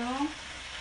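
Soy sauce poured into a pan of stir-frying okra and spinach for adobong gulay gives a brief, loud burst of sizzling that quickly settles into a steady, softer crackle.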